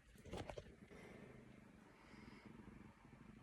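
A pet cat purring up close, a faint, steady low rumble that continues throughout after a brief burst of rustling near the start, with no voices.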